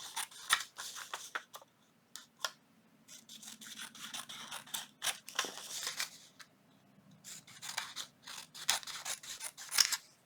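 Scissors snip repeatedly through dyed paper tags, trimming away the top and tidying the edges; close, crisp cuts come in quick bursts separated by short pauses.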